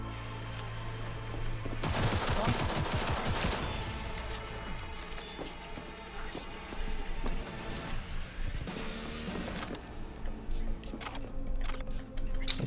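Rapid pistol gunfire in Cyberpunk 2077, a dense burst of close, sharp shots followed by scattered individual cracks amid game combat noise.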